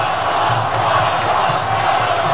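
A stadium crowd cheers for Ron Paul after straw poll results, a dense, continuous roar of voices with shouts rising and falling, loud and steady throughout with no pauses.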